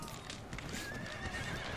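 Cavalry horses in the video game Empire: Total War clatter with rapid clip-clop hooves and a whinny, faint and continuous in the midst of a battle.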